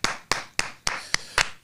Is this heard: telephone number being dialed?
no